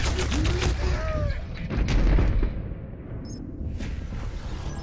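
Rapid gunfire during a competitive Overwatch match on King's Row: a dense run of sharp shots with booming low rumble and chirping game effects, loudest near the middle, then easing into scattered fire.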